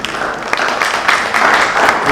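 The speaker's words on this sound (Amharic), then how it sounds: "በጣም አጨብጭቡለት።" Audience applause at a church discussion session, a steady wash of clapping held at fairly even loudness for about two seconds, with no talk over it.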